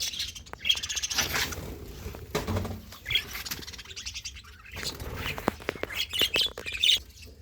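Pet birds chirp and tweet in short, bright bursts as they come down to a mineral block, with light pattering and scuffling between the calls, close by and fairly soft.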